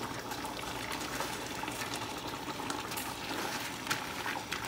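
Rice poured into a pot of simmering Caribbean red beans, a steady close rushing, watery pour with a faint bubbling hiss under it.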